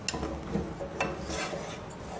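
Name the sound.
stirring and sautéing ground coconut and spice paste in a pan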